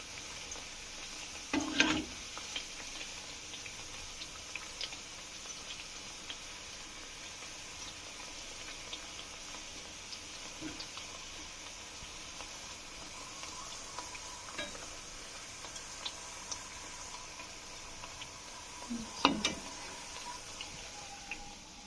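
Milk powder sweet dough frying in oil makes a faint, steady sizzle and bubble throughout, with a few soft clinks and taps from stirring now and then.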